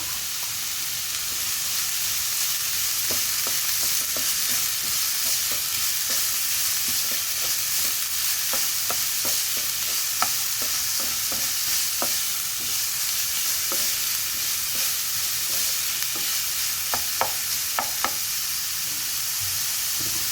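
Chopped papaya stir-fried with green chilli and a pinch of turmeric in a pan, a steady close sizzle with frequent small scraping taps of the spoon throughout, no talking.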